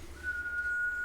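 At a tabletop Dungeons & Dragons session, a player whistles a single steady, shrill tone with their mouth to imitate blowing a shiny whistle, held for about a second against a quiet room.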